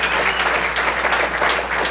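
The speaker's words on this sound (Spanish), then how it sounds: "Dele un aplauso fuerte al Señor." Loud applause from a church congregation during a vigil service, a dense steady wash of clapping that fills the short stretch without pause.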